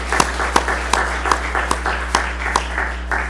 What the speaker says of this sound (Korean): 한번 하나님 앞에 다시 한번 영광의 박수 드립시다